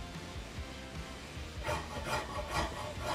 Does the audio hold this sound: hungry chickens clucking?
no